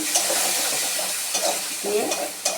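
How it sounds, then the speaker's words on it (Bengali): Spices tempered with cumin seeds frying in a pan for a shrimp and elephant-foot yam curry, a continuous sizzle broken by several scraping stirs of a spatula. "আর জিরে ফোড়ন দিয়ে দিয়েছি দিয়ে ভেজে নিচ্ছি"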